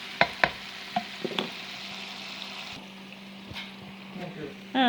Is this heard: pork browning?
yes